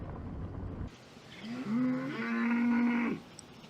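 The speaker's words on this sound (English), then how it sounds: "See that cow saying" A cow moos once in open sagebrush country, a long, loud, sustained low call rising and holding for over a second, heard after a burst of wind or engine noise.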